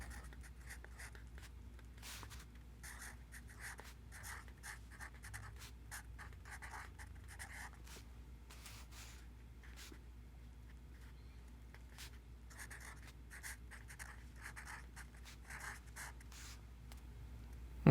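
A pen scratches across paper in short bursts of writing separated by pauses, quiet and close, with steady low background hum and no talking.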